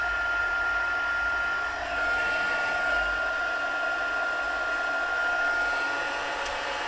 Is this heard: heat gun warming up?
yes